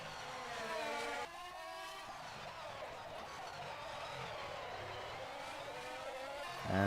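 Formula 1 race cars in the rFactor 2 racing game at the Monaco Grand Prix, their high-pitched engines whining and shifting steadily, rising in loudness near the end, with commentary faintly mixed in.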